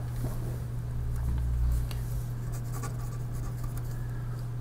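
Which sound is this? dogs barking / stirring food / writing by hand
writing by hand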